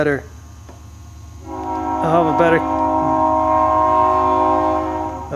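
A train rumbles steadily throughout, and a loud, sustained horn blast sounds partway through, holding for several seconds before easing off.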